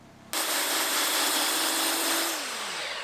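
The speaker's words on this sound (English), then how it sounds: "on the really, really low spots, I'm just gonna hit it with a belt sander" A belt sander runs across a planed wood surface, flattening low spots. It starts abruptly with a loud, steady broadband whir and a constant hum, then the pitch drops slightly near the end as it winds down.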